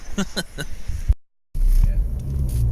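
Low, steady road rumble inside a car heading home from a fishing trip near Dungeness, Kent, filling the second half after a brief cut; earlier, someone talks over a lighter background.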